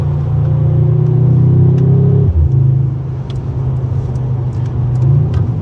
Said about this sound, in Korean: 아내 차가 AMG다라는 걸 충분히 어필할 수 있을 만큼의 소리를 내준다